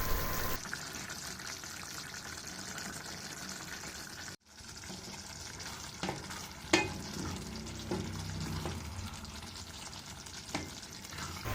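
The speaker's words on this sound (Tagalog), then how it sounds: "Habang ako nga ay nagluluto" Laing made with kangkong stirs and fries in a pan, a steady close sizzle running throughout with occasional scraping stir strokes and a brief break partway through, no voices.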